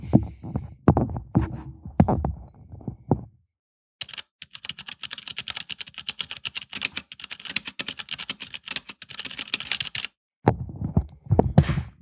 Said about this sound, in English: basically this is the Cherry MX Brown keys with the big fat rubber O-rings